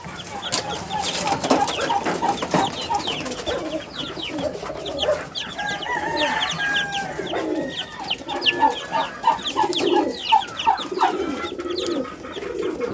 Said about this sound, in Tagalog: Merong dalawang pabo guys.